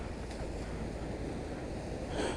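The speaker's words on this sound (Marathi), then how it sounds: "एवढा समुद्र खवळलेला आहे" Rough, churning sea off the Mumbai shore roars in a loud, unbroken wash of surf, with wind buffeting the microphone.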